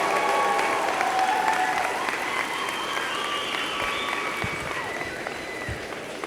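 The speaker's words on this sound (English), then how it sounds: "please applauding your family, your friends, the faculty and staff" A graduating class at a university convocation ceremony applauds family, friends, faculty and staff, a broad sustained wash of clapping from a large crowd that gradually eases off.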